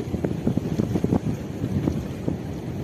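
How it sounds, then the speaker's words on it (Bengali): Strong stormy wind with rain buffets the microphone in uneven gusts at the Digha river mouth, a low rumbling roar that swells and fades repeatedly, close and unsettled. "চলছে দুর্যোগ প্রচণ্ড ঝড়ো বাতাস সেই সাথে বৃষ্টি"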